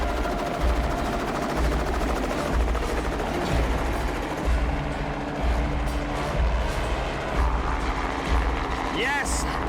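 Helicopter flying close overhead during a fishing expedition pickup: a loud, steady low thudding rotor drone with turbine whine. Voices talk over it throughout.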